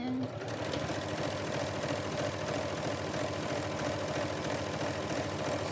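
A sewing machine stitches down a seam on an adjustable apron, a steady, close, continuous rapid whirring rhythm running throughout.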